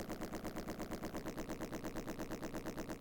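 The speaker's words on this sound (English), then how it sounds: "Same explosion as before." An explosion in the video game Bare Knuckle III comes across as a rapid, evenly pulsing series of loud blasts, like sustained gunfire, that repeats steadily throughout.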